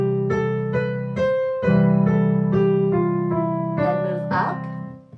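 Piano playing a scale pattern with sustained chords that move up step by step, ringing notes struck in an even rhythm, close and clear with no talking over it.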